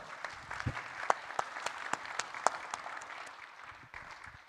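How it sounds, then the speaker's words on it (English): A small conference audience claps steadily for several seconds after speakers finish, scattered sharp hand claps forming moderate applause that tapers off at the end. "please join me in a round of applause for our speakers"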